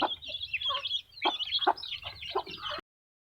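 Chicks in a room peck at starter feed, giving soft clucks and chirps in short, uneven bursts close by.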